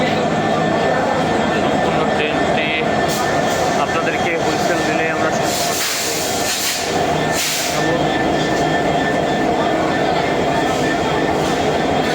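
A new passenger train from Khulna stands at a station in Bangladesh, its loud steady diesel locomotive rumble and broadband roar filling the whole stretch, with brief hissing bursts and crowd chatter mixed in.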